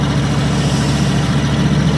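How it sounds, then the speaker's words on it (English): A big RV with engine trouble labours at low road speed, giving a continuous heavy drone that holds steady and fairly loud throughout. "And it's got engine troubles."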